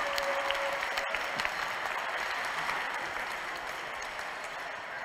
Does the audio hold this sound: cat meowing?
no